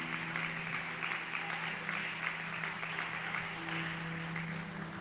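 Congregation applauding for Jesus during a church service, a steady sustained wash of clapping at moderate distance with a low hum of organ or keyboard tones underneath.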